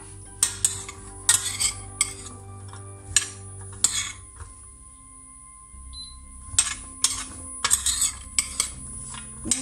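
Mixed vegetables get stirred in oil in a pan for a honey-glazed sauté, with sharp intermittent metallic scrapes and clinks of a utensil against the pan, a quiet pause midway, then more stirring.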